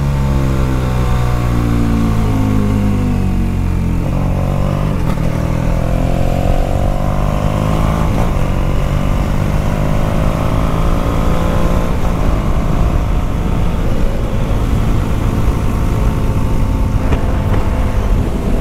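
A BMW 1200 motorcycle engine revs and accelerates hard, its loud rising drone climbing and shifting in pitch through several gear pulls, close and continuous for the whole stretch with no speech over it.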